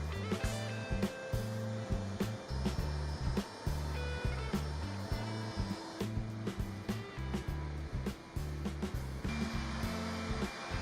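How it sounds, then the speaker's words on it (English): Loud whirring of a Clindex polishing machine with polishing pads working concrete floor edges at a car dealership, a continuous motor drone broken by rhythmic dips and pulses as the pad moves. "we continue with the polishing pads on the edges, including the use of our Clindex machine and some hand polishing as well"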